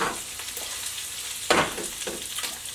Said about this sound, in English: So now the onions are reducing down.